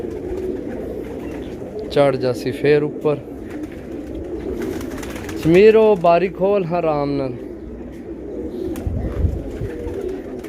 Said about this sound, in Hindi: कबूतर चेक करो माशाल्लाह, बहुत तगड़ा कबूतर।